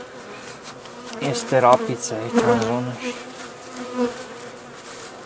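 Honey bees buzz loudly around a hive during a pollen harvest near a rapeseed field, a continuous close drone with someone speaking over it.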